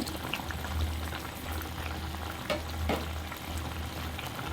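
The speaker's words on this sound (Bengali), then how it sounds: "তো দেখো তিন চার মিনিট ফুটিয়ে নিয়েছি" Banana flower kofta curry, a vegetarian dish, bubbles at a steady boil in a pan, with a dense continuous simmer and scattered soft pops and clicks, close and moderately quiet, with no talking.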